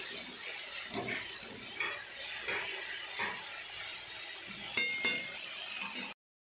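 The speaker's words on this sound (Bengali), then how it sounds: "ভেন্ডিটা ভালো করে ভেজে নেব" Okra frying in a pan with salt and turmeric gives a soft, steady sizzle, broken by a few light clinks and stirring scrapes of a utensil against the pan, fairly quiet throughout.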